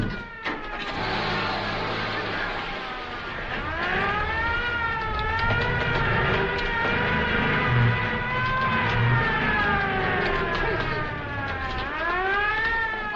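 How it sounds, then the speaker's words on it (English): A wailing siren rises and falls in long sweeping tones, fairly close and continuous, with a low rumble underneath. "Don't you hear that siren?"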